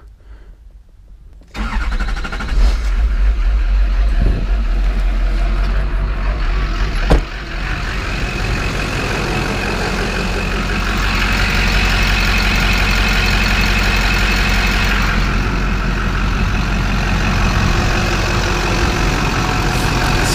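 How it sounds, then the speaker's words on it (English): A Duramax diesel truck engine runs steadily and loudly at idle after a Seafoam fuel system treatment, a low rumbling drone that holds for the whole stretch after a brief quiet start. "So now we're just gonna let the truck run off the Seafoam"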